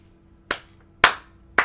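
Three crisp single claps sounding alone in near silence, spaced roughly half a second apart, each sharp and close with a quick decay.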